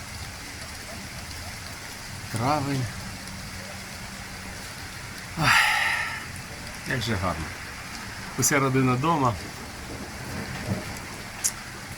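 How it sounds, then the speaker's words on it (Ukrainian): Evening rain falling outside in a Kharkiv neighborhood during a thunderstorm, a steady soft hiss under close conversational voices, with people talking throughout. "Це просто дощик іде."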